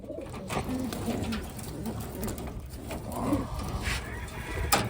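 Taiwan-breed pigeons cooing softly in a loft, several low repeated coos scattered through the clip amid faint background rustling and bird noise, with no clear talk.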